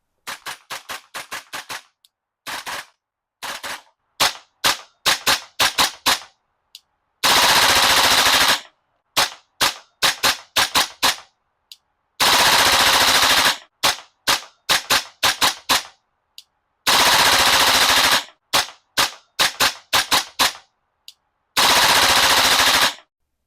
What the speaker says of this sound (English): Due to the stiff recoil spring, the replica is extremely snappy with a super high fire rate.